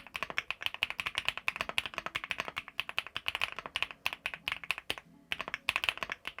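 Typing on an aluminium Epomaker P75 mechanical keyboard fitted with linear Zebra switches, a fast, close run of crisp clacking keystrokes in an uneven rhythm with a short pause near the end, with no talking.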